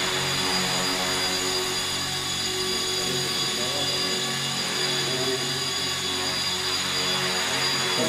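An FPV quadcopter buzzing steadily in an indoor hall, a continuous high whine of small motors holding at fairly even loudness for several seconds.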